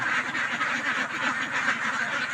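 A flock of farm ducks in their new pen quack continuously, a dense overlapping chorus of nasal calls close by.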